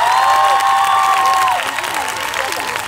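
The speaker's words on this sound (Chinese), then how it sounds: "给他们掌声一下。" Audience applause and cheering at a queer Indigenous music festival in Taiwan's Paiwan region, a loud whooping cry rising over the crowd before a broad wash of clapping and crowd noise fills the rest of the moment.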